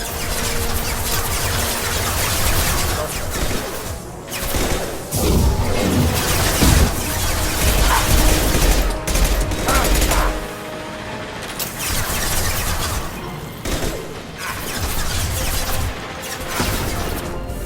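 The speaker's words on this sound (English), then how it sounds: "Firing an impact shot." Heavy impact-shot weapon blasts in Mass Effect Legendary Edition, loud booming bursts with crashes and whooshes in a sustained chaotic battle, several dips between volleys.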